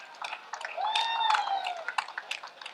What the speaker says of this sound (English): Can we give him a big and huge clap, please?